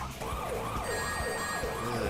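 A wailing police siren from the video game Sonic Adventure rises and falls repeatedly over steady game music and rumbling engine noise, with no talking.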